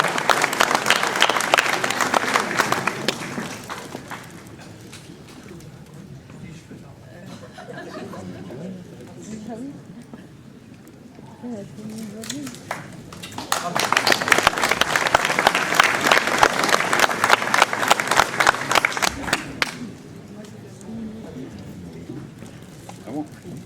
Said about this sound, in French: on peut l'applaudir pour le travail qu'elle fait auprès de nos enfants dans nos écoles